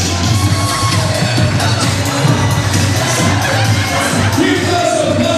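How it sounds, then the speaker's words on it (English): Wedding reception crowd applauding and cheering during the introductions, a dense sustained wash of clapping with yells and whoops, loud and steady throughout. "Keep us applause going"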